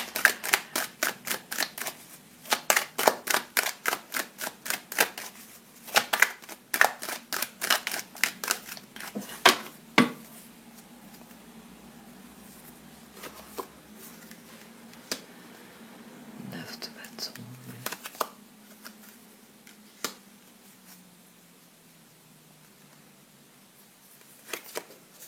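Oracle cards are shuffled in a rapid run of crisp riffling flicks, dense at first and then thinning to scattered taps, under faint whispering.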